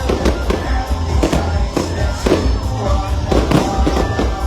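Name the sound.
fireworks display at Bacolaodiat Festival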